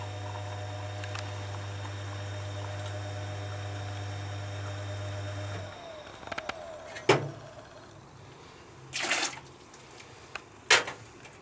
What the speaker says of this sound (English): there's your hot water coming through